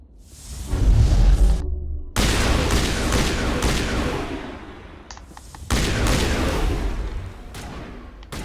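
A thrown grenade in Mass Effect Legendary Edition goes off with a heavy, booming blast. Further loud bursts of explosions and gunfire follow in waves with brief gaps between them.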